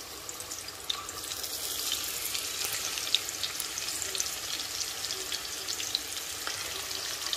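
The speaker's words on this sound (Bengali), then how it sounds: "মশলা কষাচ্ছে সব কিছু এক এক করে" Spices sautéing in a frying pan for a fish dish, a soft steady sizzle and crackle with faint stirring scrapes, quiet and close.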